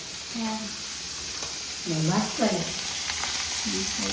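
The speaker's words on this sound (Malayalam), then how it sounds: "അതുകൊണ്ടാണ് മീൻ പൊരിക്കുന്നത്" Fish sizzles loudly as it fries in a pan, a constant crackling hiss while a person talks briefly over it.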